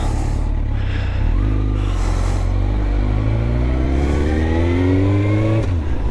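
Engine of a Suzuki GSX-R1000 K2 motorcycle on the road: a loud, steady, close-up engine drone with wind rush, rising in pitch as it accelerates through the gears.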